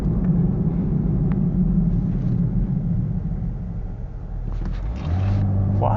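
A 2016 Chevrolet Camaro with stock exhaust cruising on the road, a steady low engine drone and exhaust rumble from inside the cabin, shifting slightly toward the end.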